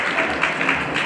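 A crowd claps in a short, steady burst at a school's 100th anniversary celebration, the dense patter of many hands filling the room at moderate loudness.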